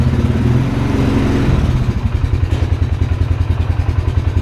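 A Polaris Sportsman 570 EPI ATV engine with an aftermarket clutch kit revs up and holds near clutch engagement, a loud, close, throbbing motor with a rapid pulsing beat that steadies into a regular chugging rhythm, no speech.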